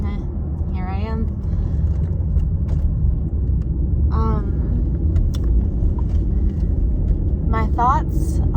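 Inside a moving car, a steady low road rumble and engine drone fill the cabin while a person talks over it, with a few short squeaky sounds cutting through now and then.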